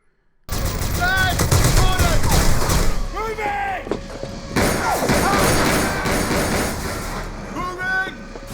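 Gunfire from a battle scene in the 2008 film Outpost, with mercenaries firing at attackers: dense, loud bursts of shots and heavy thuds go on almost continuously, mixed with score and shouting voices.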